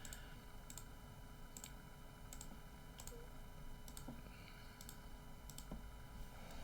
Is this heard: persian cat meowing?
no